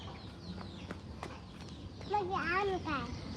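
Chickens feeding on mango give a few clucks and soft calls near the end, over a busy outdoor background with faint voices.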